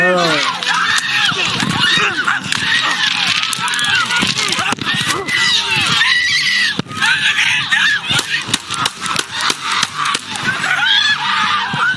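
Loud, overlapping screams and frantic shouting from several people erupt in the chaos right after a police shooting, a dense, continuous, close-up clamor of panicked voices with sharp bursts throughout.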